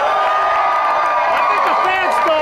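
Fans at a wrestling match cheering in a dense, loud crowd roar that holds steady for the whole moment, with shouts and whoops standing out from the mass of voices.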